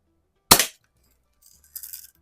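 A 1947 Daisy Red Ryder BB gun fires one sharp, close crack that decays quickly, followed by faint clicks and a soft rattle of handling.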